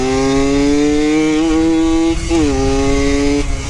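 A rebuilt Yamaha YSR50 mini street bike engine revs loud and close, a buzzing two-stroke drone that holds steady, then dips and climbs again in a quick blip.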